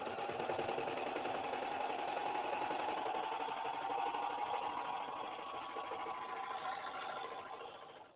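A Baby Lock Accolade serger/coverstitch machine stitching along the edges of a quilt sandwich, humming in a steady, fast, even whir before slowing at the end.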